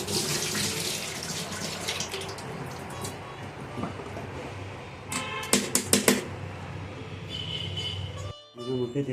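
Tap water runs onto vegetables being rinsed in a strainer, a continuous splashing gush with a few sharp clatters of the metal strainer near the end, then a brief pause before the water resumes.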